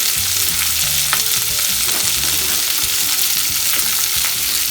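Onions, curry leaves, green chillies and dried red chillies frying in a pan for flattened rice upma, a loud continuous sizzle with occasional scrapes and taps of stirring.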